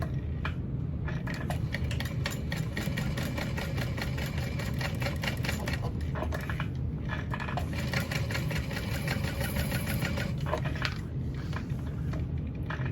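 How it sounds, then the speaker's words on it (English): A sewing machine runs steadily while top stitching a seam on a mini backpack, a continuous close motor whir and rapid needle chatter holding at an even level with no pauses throughout. "And then we're going to top stitch"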